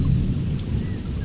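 A cartoon thunderstorm rumbles with heavy, steady rain and low thunder, a dense continuous wash of sound for just over a second.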